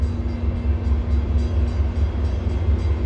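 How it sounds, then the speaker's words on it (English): A Rock Island Beverly commuter train rolls into Blue Island and Vermont Street station, a loud, steady low rumble of wheels and engine throughout with no talk. "Rock Island Beverly train number 631 to Blue Island and Vermont Street is now arriving."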